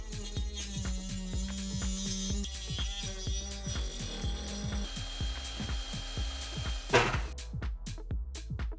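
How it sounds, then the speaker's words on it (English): A drill bores a circular hole about 1 centimeter wide in a PS3 case, making a close, steady grinding whir with rapid regular ticks and a brief louder burst near the end. "So I drilled a circular hole about 1 centimeter wide."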